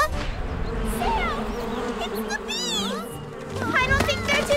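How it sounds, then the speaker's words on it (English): Cartoon bees buzz in a swarm, rising and falling in pitch over a steady background, while children's voices talk and exclaim over the buzzing throughout. "it's the bees!"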